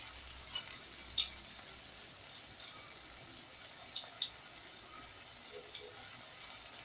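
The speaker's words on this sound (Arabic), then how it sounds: "نشوح بقى ايه، يعني نقلب كويس جدا جدا" Rice and lentils frying in oil for koshari, a soft, steady sizzle with faint scraping from stirring, heard alone.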